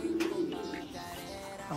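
A pigeon in a loft gives a short, soft, low coo close by, a brief warbling call with faint background noise.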